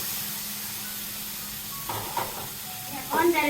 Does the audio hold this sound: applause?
no